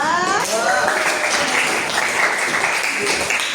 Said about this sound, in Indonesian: kita tepuk tangan dulu untuk kelompok 2